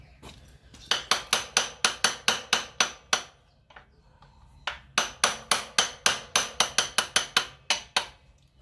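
Rapid, sharp taps of a small hammer on metal ring out in two quick runs of about a dozen strikes each, separated by a brief pause, during swingarm removal on a Honda XR400R motorcycle.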